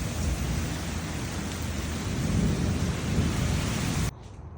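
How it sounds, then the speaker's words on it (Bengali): A Florida thunderstorm with heavy rain gives a dense, steady roar of downpour and rumbling thunder that stays loud throughout, then cuts off sharply near the end. "হঠাৎ করে এইভাবে অন্ধকার হয়ে ঝড় বৃষ্টি নেমে আবার আধা ঘন্টা 1 ঘন্টার ভিতরে শেষ"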